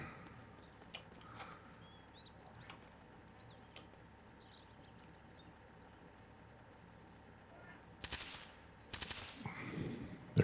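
Gunfire in the survival video game Mist Survival: a quiet stretch of birdsong and ambience, then a cluster of sharp shots near the end, with several quick rapid bursts close together.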